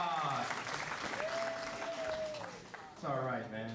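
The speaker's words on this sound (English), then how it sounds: "Give another round of applause for Todd." A comedy club audience claps and cheers in a continuous wash of applause. Voices speak at the start and end, and a brief whistle-like tone rings out in the middle.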